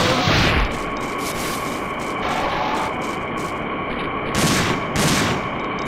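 Gunfire from the survival horror game Dino Crisis 2, a loud sustained run of shots with heavier bursts at the start and again near the end, alone without talk.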